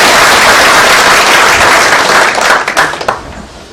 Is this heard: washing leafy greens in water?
no